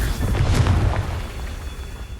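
A Confringo blasting spell from Hogwarts Legacy strikes with a single deep, loud boom that rolls into a low rumbling decay over about two seconds.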